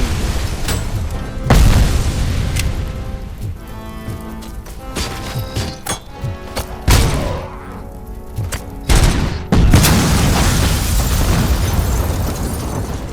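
Grenade blasts in the Robocop Rogue City video game, several loud broadband booms bursting at irregular intervals over a dense, busy backdrop of gunfire and game noise, with no voices.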